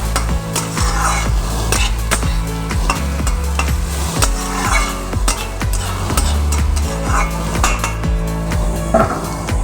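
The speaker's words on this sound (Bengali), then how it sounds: "চিনিটা দেওয়ার পর আমি আবার কিছুটা কিছুক্ষণ একটু নেড়ে চেড়ে নেবো" Sago pilaf with sugar is stirred in a pan, with repeated metallic clinks of a spoon against the pan and a light sizzle beneath steady background music.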